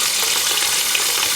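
Water runs steadily from a tap while dyed yarn is washed with dish soap, a constant loud hiss with no breaks or voices.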